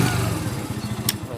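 An Archive Scrambler 50cc four-stroke motorcycle engine idles close by with a steady, loud, low throbbing putter and a brief higher click near the end.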